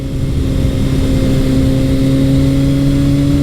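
Steady engine drone of a Suzuki GSX-S750 motorcycle ridden gently on a new Dunlop tire, a loud, continuous mid-pitched hum holding nearly constant throughout without revving changes.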